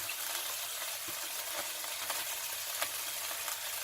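About six slices of smoked bacon frying in oil in a pan, giving a steady, soft sizzling hiss with scattered small crackles and pops throughout.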